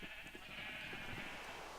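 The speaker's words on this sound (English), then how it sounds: "Look how many sheep there are." Sheep bleat in the Minecraft video game, with soft, faint bleats heard over a steady hiss of in-game rain.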